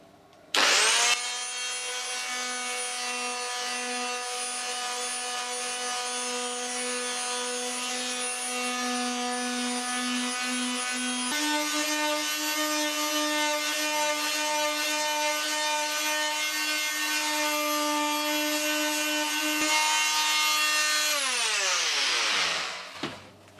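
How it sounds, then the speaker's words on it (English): A Bosch PMF 180E detail sander works the edge of a Perspex acrylic sheet, producing a steady, high-pitched whining buzz that lasts about twenty seconds before winding down at the end, heard up close and alone. "I've got the Bosch PMF 180E here, which is similar to a detail sander"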